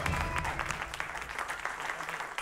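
Studio audience applause on a Spanish-language TV quiz show, a steady wash of many hands clapping at moderate volume, continuing evenly for over two seconds without talk.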